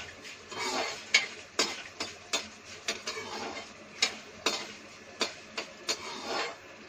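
Fenugreek and mustard seeds go into a pan in a small home kitchen while making sambar, followed by a steady run of sharp metallic taps and scrapes from stirring, evenly spaced and fairly close, with soft frying underneath.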